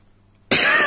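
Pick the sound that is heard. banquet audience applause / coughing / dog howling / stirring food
coughing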